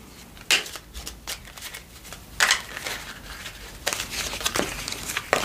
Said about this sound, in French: J'essaie vraiment de faire le maximum pour bien mélanger